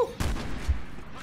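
Gunfire in Resident Evil 6 gives a couple of quick, moderately loud shots, one near the start and another shortly after, each trailing off into a short echo.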